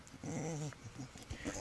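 Dog growling up close, a low rumbling growl with short whimpering yips in between, brief and moderately quiet.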